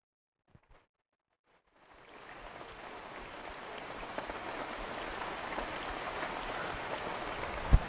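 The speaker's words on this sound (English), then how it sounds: "Oh, can you hear the rain?" Rain falls outside, beginning as a quiet hiss after a couple of faint knocks and swelling into a steady, moderately soft patter that continues throughout, with one sharp tap near the end.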